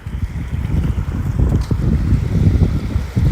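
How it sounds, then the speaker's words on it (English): Water surging and washing in right beside someone walking at the shoreline, a continuous loud low rush with wind buffeting the microphone throughout. "You can hear the water crashing beside me."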